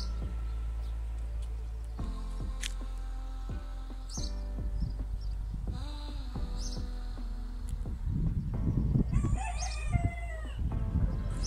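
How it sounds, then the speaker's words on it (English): A rooster crows in a seaside holiday-house neighbourhood in Glowe on Rügen Island, Germany, its drawn-out call rising clearly near the end over steady low outdoor rumble and scattered background sounds. "It's a chicken."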